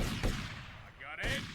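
A gunshot headshot in Grand Theft Auto: Vice City rings out as a short sharp burst near the start, followed by a second crack with a brighter ringing tail about a second later, with faint background noise between.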